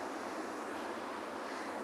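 Ocean waves at a penguin beach roll in as a steady, even hiss of surf, moderately distant and continuous, with wind noise and no voices.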